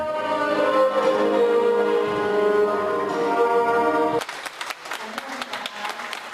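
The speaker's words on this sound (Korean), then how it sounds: "순서를 기다리며 듣는 관객들의 박수 소리는 그를 더욱더 긴장하게 만든다" Audience applause during a live concert, with steady broadband clapping from a crowd that thins into scattered individual claps as a tonal musical passage fades out.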